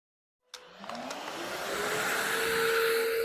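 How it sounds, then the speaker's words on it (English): A workshop dust collection vacuum switches on abruptly after a moment of silence, spinning up into a loud, steady whine and rushing airflow that holds close and constant. "I'm going to turn my dust collection on"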